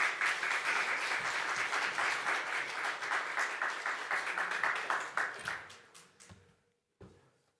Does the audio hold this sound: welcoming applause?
yes